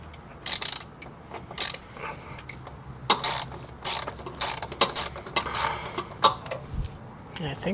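A hand ratchet with a 7mm socket works loose screws underneath a 2019-2024 Silverado or Sierra, giving short bursts of rapid clicking that start and stop several times, close and fairly loud.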